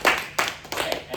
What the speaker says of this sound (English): Please once again give a big clap to David.